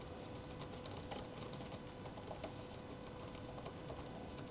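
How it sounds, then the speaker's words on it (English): Rapid, steady typing on a backlit computer keyboard, a dense run of close, crisp key clicks with no pauses and no voices. "just give me an idea of what the sound of that key is"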